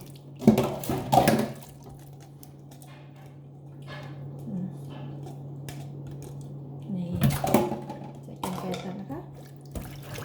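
Bean sprouts are rinsed in a basin of water: splashy sloshing bursts near the start and again later, with dripping and trickling in between over a steady low hum.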